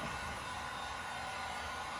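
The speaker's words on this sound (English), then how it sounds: "Just like a blow dryer, give it just a little bit" A blow-dryer-style heat gun heats paint stripper on an aluminum boat, giving a steady, loud, close airy roar that holds unchanged throughout with no talk.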